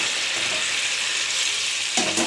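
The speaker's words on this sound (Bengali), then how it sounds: "এই যে আমার গরম জলটা দিয়ে দিচ্ছি।" Potatoes and taro frying in a pan give a steady sizzle, then hot water poured in near the end brings a sudden, louder hissing burst.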